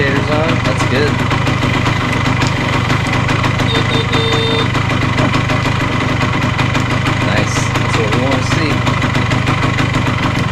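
A vintage enduro motorcycle engine idles up close in a steady, loud, even putter, with a brief higher tone and small rev flickers partway through.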